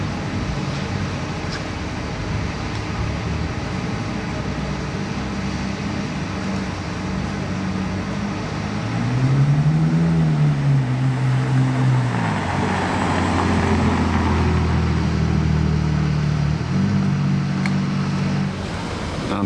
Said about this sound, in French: j'entends un V12 là-bas qui vient de démarrer et je pense que c'est 7812 GTS noir